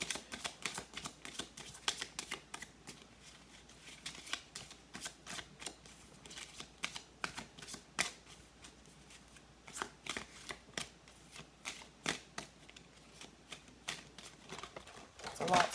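A deck of cards being shuffled repeatedly, crisp riffling bursts in an irregular rhythm, close and fairly quiet, with a voice speaking at times.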